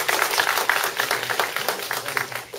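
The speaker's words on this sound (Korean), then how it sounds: "후보님들이 상당히 좀 고생을 하고 계신데 힘내시라고 박수 한번 치고 넘어갈까요?" Indoor audience at a 2018 mayoral candidates' agricultural policy debate in Anseong clapping for the candidates, a steady patter of many hands at moderate level lasting a few seconds.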